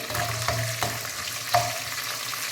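Onions, chillies and curry leaves fry in a hot pan for a Rayalaseema-style vaggani dish, giving a steady close sizzle broken by a few sharp clinks and scrapes of stirring.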